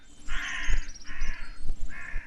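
Crows caw in the survival game Sir, You Are Being Hunted, three drawn-out harsh calls in steady succession over a low outdoor ambience, fairly close and loud, with no voices.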